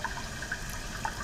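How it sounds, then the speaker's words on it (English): A water sample is drawn by suction through filter paper into a flask, giving a steady low gurgling hiss with soft intermittent trickling, close and fairly quiet, with no voices. "it's actually drawing it down now into the flask"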